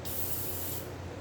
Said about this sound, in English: Spray the front and the back of the blade